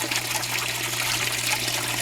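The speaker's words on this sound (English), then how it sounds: "So I'm refilling water right there slowly" Water slowly refilling an aquaponics fish tank, a steady hissing trickle with a low constant hum beneath, continuous and fairly loud with no speech.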